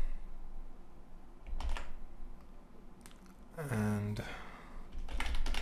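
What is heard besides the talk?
typing on a computer keyboard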